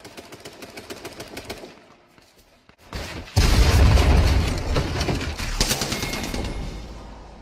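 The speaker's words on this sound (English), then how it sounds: "Dude, why is this fucking shotgun in the game?" A video game shotgun rattles off a quick string of sharp shots, then a pause, followed by a loud heavy blast and a dense burst of rapid gunfire that slowly fades, close and forceful, with no voices.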